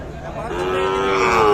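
A Sahiwal cow at a livestock market gives one close, loud, rising moo that swells and holds, with faint crowd noise behind.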